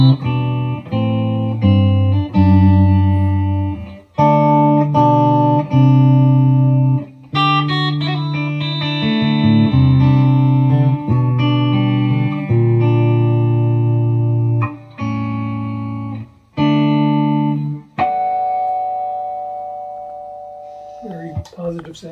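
A distorted Michael Kelly Vibe electric guitar plays sustained chords and notes on both pickups, with short pauses between phrases, loud and close, with a slight hum at the end.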